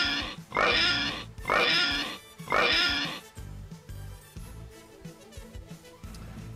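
Three loud, rough pig squeals burst out in quick succession, close and harsh, followed by softer grunting oinks and snuffles trailing off at lower volume.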